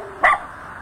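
A single short, sharp dog bark at an amateur pet competition, close and clear against a quiet background.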